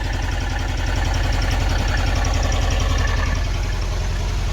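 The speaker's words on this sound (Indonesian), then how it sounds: "pincang mesinnya" Car engine with a faulty ignition coil idling close by, giving a continuous rhythmic chug with uneven, pulsing beats and no voices.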